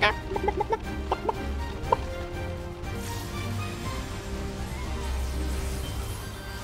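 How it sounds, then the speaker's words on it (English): Chickens in Final Fantasy XIV cluck in several short, sharp calls close by at first, then settle into a steady background of game ambience and low rumble. "Look at all these chickens."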